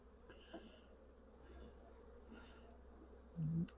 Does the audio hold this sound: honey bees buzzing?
yes